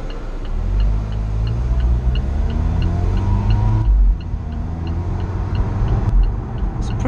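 Alfa Romeo 4C Spider sports car driving on the road, a steady close engine rumble with rising and falling gear tones and a brief dip as it shifts, with no talking.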